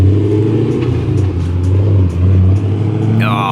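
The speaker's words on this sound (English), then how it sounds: "Another American car pulling out." Dodge Challenger American car pulling out with a loud, close engine rumble and rising revs, steady throughout, then a high whine near the end.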